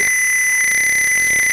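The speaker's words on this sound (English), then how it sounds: "your buzzer is enabled for 2 seconds, and it is off for 2 seconds, and again it is operating" A simulated Arduino buzzer in a Tinkercad circuit gives a loud, steady, piercing electronic tone that holds unbroken for the whole short stretch, with no voices.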